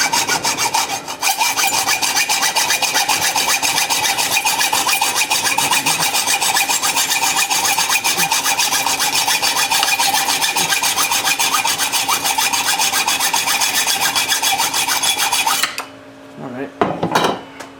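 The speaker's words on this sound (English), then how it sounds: "and then just cut like this with a hacksaw" Steady rapid hacksaw strokes cut a metal part for a homemade overhead valve Briggs engine, a loud continuous rasping that runs for about fifteen seconds before stopping abruptly, followed by a few faint handling clunks.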